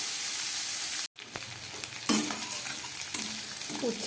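Bitter gourd slices fry in a generous amount of oil, giving a steady close sizzle with stirring scrapes; a brief silent gap cuts in near the start before the frying resumes.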